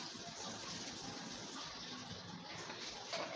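Tap water running steadily into a sink in a home kitchen during butterscotch cake preparation, a close, continuous splashing gush that grows briefly louder near the end.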